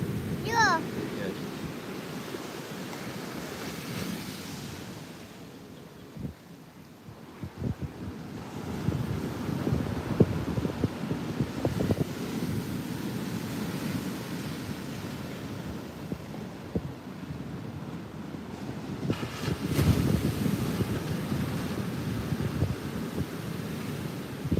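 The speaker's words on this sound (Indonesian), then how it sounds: "Suasana pagi hari di pantai Morobayang, Kecamatan Bayang, Kabupaten Pesisir Selatan, Sumatera Barat" Morning ambience at Muaro Bayang beach in Pesisir Selatan, West Sumatra: steady surf rolls in under wind buffeting the microphone, swelling and easing over time, with faint voices in the background.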